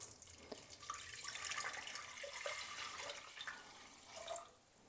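Tap water runs steadily into a pot, filling a liter for boiling an avocado to make paper dye, a continuous close splashing stream with no talk.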